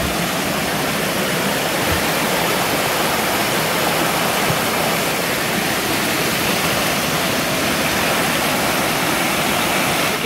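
Creek water rushes steadily along the Alberta Falls hiking trail in Rocky Mountain National Park, a loud, continuous broadband flow with no pauses and no voices.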